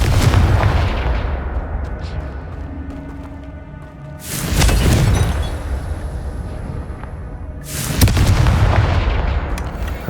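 Fire-spell explosions burst in a wizarding action video game: three loud, close booms a few seconds apart, each with a rushing roar that fades slowly.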